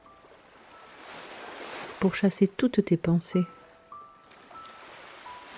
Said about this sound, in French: tout en profitant du bruit des vagues et de l'air salin de la mer